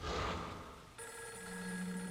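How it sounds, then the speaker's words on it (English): A telephone rings in the Fatal Frame 3 horror game, a steady electronic ring with sustained tones entering after a short burst of ambient game noise, fairly quiet. "Phone is ringing."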